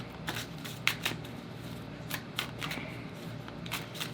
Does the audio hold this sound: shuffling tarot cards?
yes